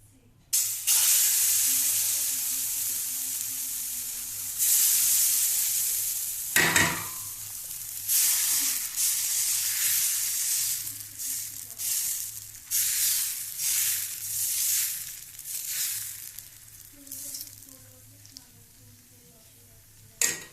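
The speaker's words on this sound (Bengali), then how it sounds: "এবার 1 হাতা করে দেব, দিয়ে এক একটা করে পাটিসাপটা আমি ভাজবো।" Patishapta batter fries on a ghee-brushed tawa, a loud continuous sizzle and hiss that runs for a long stretch, swelling and fading as ladlefuls go on, with faint voices in the background at times.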